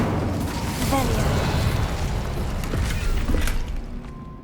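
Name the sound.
Revelio revealing spell cast in video game Hogwarts Legacy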